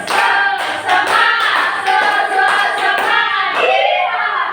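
A class of children claps together in a rhythmic chant, with loud hand claps mixed with their voices close by and a few brief pauses between bursts.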